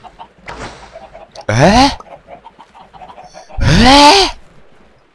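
A chicken in the Minecraft video game gives two loud, close clucking squawks about two seconds apart, with quiet game background and a brief spoken exclamation in between.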